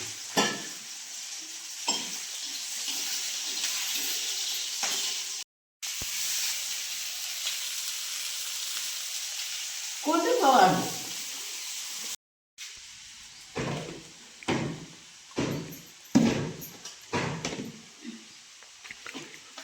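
Large-cut onion sizzles in a pan for sukat dried fish curry, with a steady close hiss broken by two brief silences and then by repeated scraping stirs.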